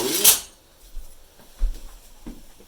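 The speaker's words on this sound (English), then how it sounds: "So now that I got that, I'm going to get a spoon." A metal spoon rattles against other utensils and dishes as it is pulled from a kitchen drawer while making breakfast, one sharp clatter followed by a few softer clinks and taps, close and alone.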